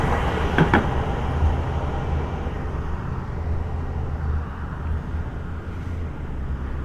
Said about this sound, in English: here comes the light rail.